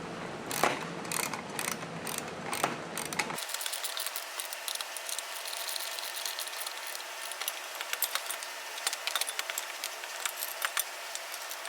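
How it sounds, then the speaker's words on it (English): Ratchet wrench with a deep socket tightening nuts on a Shop Fox mobile base caster, giving rapid repeated clicking bursts close by, steadier and denser after the first few seconds. "Now tighten the 4 nuts. You may need an extension or a deep socket to clear the height of the caster"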